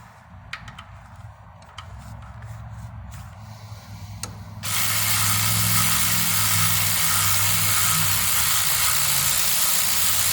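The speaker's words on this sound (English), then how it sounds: "start off by removing my middle bolts here" Mechanic's tool loosening the 10 mm middle bolts on a Ford 3.5L timing cover: a few light clicks, then a loud, steady mechanical whir that runs without a break through the second half.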